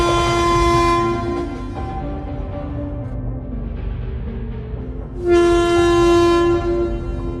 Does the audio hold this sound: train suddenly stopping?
yes